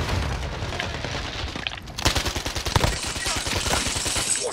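Gunfire in the video game Warzone, with rapid bursts of automatic shots growing denser in the second half, loud and close over a busy battle background.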